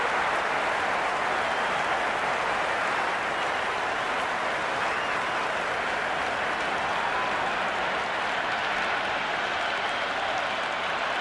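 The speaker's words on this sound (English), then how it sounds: "the crowd is at near bursting point at today's play" Video game cricket crowd at a match involving India, a dense, sustained wash of applause and cheering, loud and unbroken for the whole stretch.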